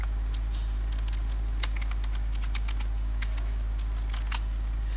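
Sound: typing code on a computer keyboard

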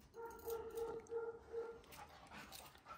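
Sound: dog barking

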